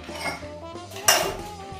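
A Pedro Collins cocktail is strained into a glass: soft pouring and clinking of metal against glass, with a sharper clink near the middle, fairly close and moderately quiet.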